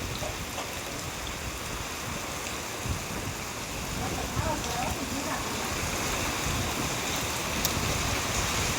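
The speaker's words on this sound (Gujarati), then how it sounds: "બહુ જ વરસાદ ને એવું જ છે" Heavy storm rain pours down in a dense, steady hiss that swells slightly louder midway, with faint voices now and then beneath the downpour.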